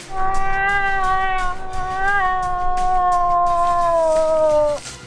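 A voice imitates a bull moose with a long, drawn-out, wavering nasal call, sustained for several seconds before breaking off.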